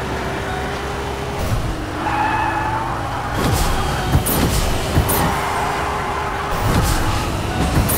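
A Ferrari drives in the Fortnite video game, with a continuous engine hum, tire skids and several sharp impact thuds, moderately loud and steady throughout.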